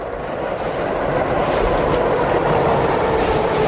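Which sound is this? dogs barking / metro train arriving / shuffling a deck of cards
metro train arriving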